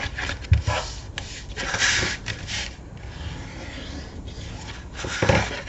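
Paper gussets of a photographer mini album are burnished by hand, giving soft, close rubbing and scraping strokes in irregular bursts, with no voices.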